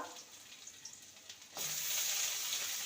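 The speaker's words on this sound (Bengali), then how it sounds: "চিচিঙ্গাটাকে ভেজে নেব" Snake gourd (chichinga) frying in a pan, a faint crackle that swells into a steady, brighter sizzle halfway through.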